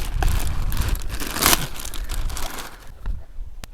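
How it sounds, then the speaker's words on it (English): Close, loud crinkling of plastic packaging while unboxing items with a new 2021 Jeep Wrangler Rubicon 4xe, continuous rustles and crackles with a sharper burst in the middle, tapering off toward the end. "Pardon the crinkling noise."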